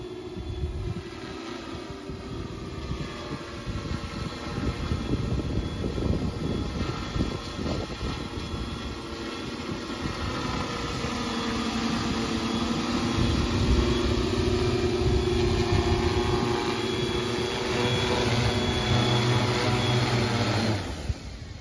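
A camera mission drone built for beach lifeguard rescue, with a loudspeaker and 30x zoom camera, hums steadily with a high rotor whine that swells in pitch and loudness as it comes down, then cuts off at the end.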